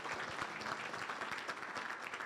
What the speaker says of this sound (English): let's give our panel a great round of applause.